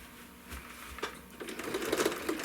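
A sewing machine stitches a quilt, a short run of rapid mechanical needle clatter that builds in loudness, with no voices.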